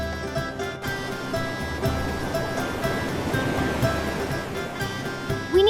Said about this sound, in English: We need to protect it from the waves.